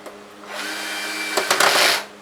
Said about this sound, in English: So now let me have my drill, my screwdriver.